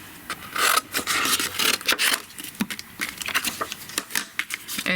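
A paper trimmer cuts through craft paper, a dry scraping slide followed by a run of quick rasping scratches and small clicks, close and moderately loud, with no talking.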